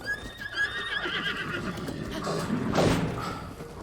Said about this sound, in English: What are you doing, horse?